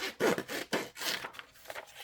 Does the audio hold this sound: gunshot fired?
no